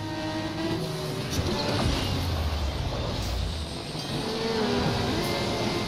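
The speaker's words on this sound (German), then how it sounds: "Ihr merkt das schon, wie der Motor klingt" A sports car engine in the Asphalt 9 racing game roars continuously at steady loudness, with the pitch rising and shifting as it revs, heard alone with no talk.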